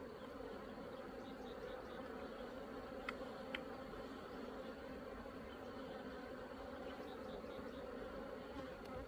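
Honey bees hum in a dense, steady buzz close around an open hive during a May hive check, with a couple of faint clicks and no talk.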